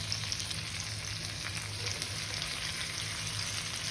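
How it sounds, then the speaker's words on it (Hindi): Green onions frying in a pan, a steady dense sizzle that stays even and continuous throughout, close and fairly loud with no talking. "इसके बाद हमको डालना है ग्रीन ओनियन प्याज"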